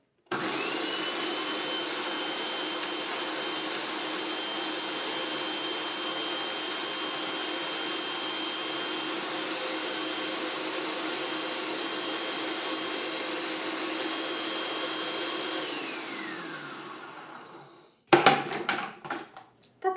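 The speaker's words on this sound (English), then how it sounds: "I'll turn the machine on to the puree mix button, and with it running, I'm going to drop in my garlic and jalapeno pepper." A Hamilton Beach Stack and Snap food processor on its puree setting runs with a steady, loud motor whine while garlic and jalapeno pepper are chopped, then winds down and ends with a few clattering knocks.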